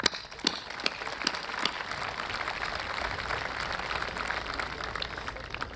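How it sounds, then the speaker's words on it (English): The audience at a 2022 high school graduation claps, a few sharp individual claps at first swelling into broad, fairly distant crowd applause that holds steady. "Let's clap for all of our friends and peers, man."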